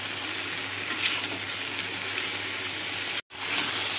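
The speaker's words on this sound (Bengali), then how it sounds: "মিডিয়াম টু হাই ফ্লেমে রেখে 2 মিনিট আমি এইভাবে এটাকে ভাজতে দেবো" Mixed vegetables dusted with turmeric powder fry in a pan over a medium-to-high flame, giving a steady, close sizzle that runs almost unbroken, with a very brief cut to silence near the end.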